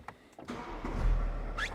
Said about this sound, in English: I'll turn on the engine.